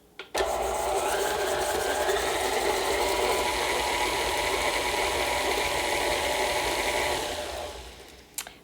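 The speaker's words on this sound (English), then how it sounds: "put that on our stand mixer and turn the speed to low" A stand mixer creams butter and sugar for Christmas sugar cookies at medium speed, a steady whirring motor hum that lasts several seconds and then winds down, with no voices.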